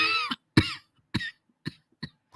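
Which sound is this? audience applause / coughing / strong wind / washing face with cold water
coughing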